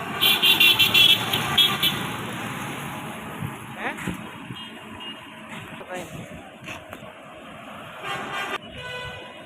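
Bus on the highway from Surat to Ahmedabad, its engine a steady broadband rumble with short honks from passing traffic, a busy burst early on and a brief blast near the end.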